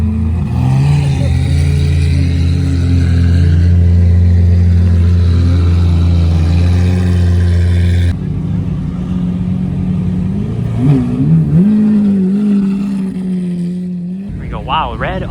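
A red Testarossa with red wheels and a modified exhaust revs on a Tokyo street, its deep engine drone steady and loud, then rising in pitch and dropping away over people talking.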